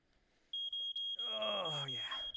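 A steady high electronic beep sounds as VR trackers are detected, joined partway through by a voice imitating a rapid string of beeps and boops.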